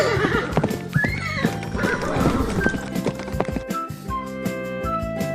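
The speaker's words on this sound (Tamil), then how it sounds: "குதிரை." A horse neighs with a high, wavering whinny near the start, alongside brisk clip-clop hoofbeats and other farmyard sounds, loud and close.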